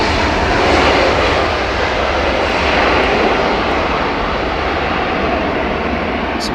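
Boeing 737 jet engines at London Heathrow Airport roar in a loud, steady, broadband wash that holds evenly throughout, close and with no voices.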